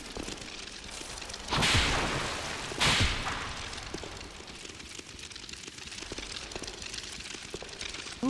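Two sharp whip swings in Dark Souls II, each a quick swishing crack standing out over a low, rain-like background hiss, about a second apart with no talk.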